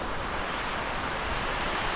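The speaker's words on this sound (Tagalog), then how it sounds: "Lakas ng ulan." Heavy rain pours down during a strong typhoon with gusting wind, a steady dense hiss and roar that stays even and loud throughout, with no voices.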